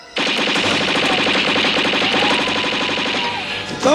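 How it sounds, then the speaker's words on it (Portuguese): Rapid, sustained automatic gunfire from a Back to the Future film scene rattles continuously for several seconds at close range, loud and dense, ending with a short burst of other noise. "eles aparecem aqui e matam o Dr. Brown a tiros"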